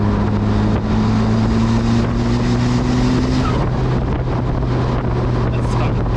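A turbocharged K-swapped Mazda Miata roars on a dyno, its engine holding a loud, steady, droning exhaust note with a constant low hum throughout.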